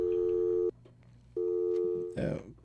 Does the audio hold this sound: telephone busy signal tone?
yes